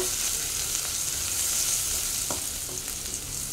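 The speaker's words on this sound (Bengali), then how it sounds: "তারপর আমি সেই তেলেই আদাটা অ্যাড করলাম" Ginger sizzling in hot oil in a pan, the oil previously used for frying chhana (paneer) kofta, a steady dense crackle with a few light stirring clicks, close and fairly loud with no voices.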